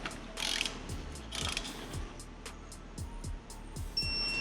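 A torque wrench ratchets in short clicking bursts while tightening the cylinder head bolts on an E46 BMW with an M52B25TU engine, close and fairly quiet, with brief pauses between strokes in a quiet workshop.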